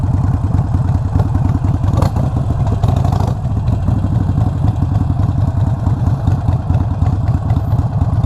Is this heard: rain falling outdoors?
no